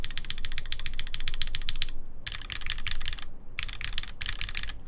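Rapid clicking of arrow keys being typed on a custom mechanical keyboard with artisan keycaps, in several quick bursts with short pauses between them, close and alone over a low background hum.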